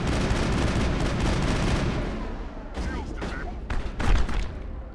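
Rapid bursts of gunfire in the Mass Effect video game, loud dense volleys that thin into scattered separate shots, with a voice talking over them.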